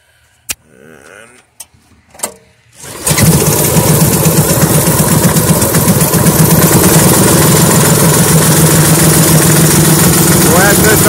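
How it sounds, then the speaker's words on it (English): A homemade generator engine with its choke on catches after a few quiet knocks and stutters, then settles into a loud, steady, close idle that runs without pause. "So let's fire it up, hit the choke quick,"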